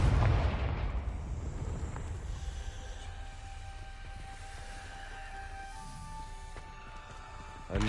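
A Confringo explosion spell goes off in Hogwarts Legacy, opening with a loud, close blast that decays into a long rumbling tail with faint ringing tones, and a brief sharp hit near the end.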